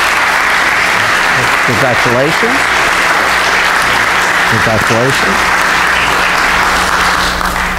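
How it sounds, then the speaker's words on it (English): Congregation applause at a Sunday church service, a steady broad wash of clapping filling the room throughout, with a voice speaking briefly over it twice. "Let's give this crowd a round of applause for that."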